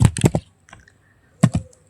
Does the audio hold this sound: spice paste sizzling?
no